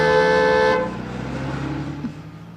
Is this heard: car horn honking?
yes